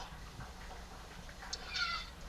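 A cat lets out a short, strained meow near the end, faint against a low background hum.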